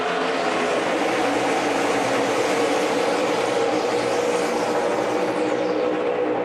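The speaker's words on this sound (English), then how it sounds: "I can hear the engines revving up" NASCAR stock car engines roar steadily at Pocono Raceway during the 2013 GoBowling.com 400, a loud continuous blend of several cars revving past with no talk over it.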